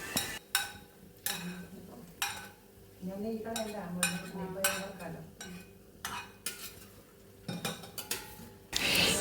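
A spoon stirs and scrapes through food in a pan, with repeated sharp clinks against the metal and a faint sizzle between strokes.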